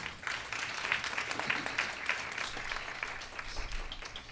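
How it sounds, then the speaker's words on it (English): An audience applauds a panel at a breast cancer awareness event, with sustained even clapping heard at moderate distance and no talk over it. "Please give the panel a round of applause"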